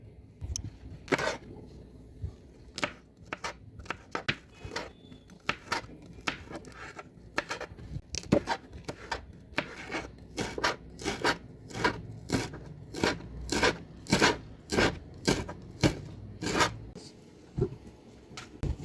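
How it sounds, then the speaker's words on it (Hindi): Knife chopping green chillies on a board, sharp close taps that start sparse and grow into a quick, fairly even rhythm. "हरी मिर्च काट लेंगे।"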